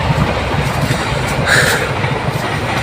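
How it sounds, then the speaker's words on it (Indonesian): A passing train rumbles close by, a loud continuous rolling roar of railcars on the tracks with faint wheel screech, with no talk over it. "ganggu aja nih keretanya ya"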